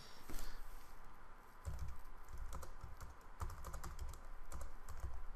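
Typing on an AZERTY computer keyboard, rapid bursts of key clicks in irregular clusters, close and fairly quiet, with no talk.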